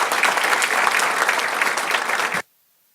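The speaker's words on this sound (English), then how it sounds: "Let's give them one more big round of applause." Sustained applause from an audience at a school board of education meeting honoring the Golden West dance team, steady and full for over two seconds, then cutting off abruptly into silence.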